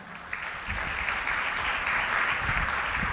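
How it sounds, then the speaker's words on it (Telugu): A church congregation at Sunday worship breaks into sustained clapping that builds and holds as a dense, fairly loud wash of many hands throughout. "చప్పట్లు కొట్టండి మాటకి"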